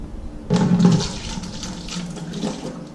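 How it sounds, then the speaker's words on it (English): Solution poured into a beer brewing vessel, a steady splashing gush of liquid up close that starts abruptly and continues for a few seconds without talk. "I'm gonna pour some of this solution in, not all of it, just some"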